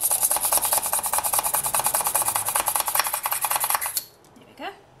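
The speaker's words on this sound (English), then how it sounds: "Just going to drill a hole in the top of this one too." A fine drill bores a hole into the top of a polymer clay pendant, giving a steady, rapid rasping whir for about four seconds before it stops abruptly, leaving a faint handling noise.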